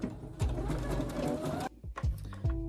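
A domestic sewing machine running a zigzag stitch on a garment seam: a close, steady mechanical whirr with rapid needle clatter, pausing briefly before starting again in short bursts.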